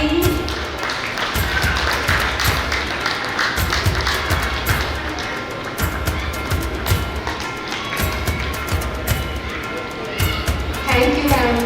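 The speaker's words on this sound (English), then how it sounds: "Keep clapping." Audience clapping at a school gathering felicitation ceremony for Kingswood International Preschool, a dense steady patter lasting throughout, mixed with a thumping background beat and some voices.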